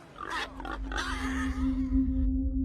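Pigs grunt repeatedly at close range on a village farm, in short rough bursts over a steady low hum, with no talking.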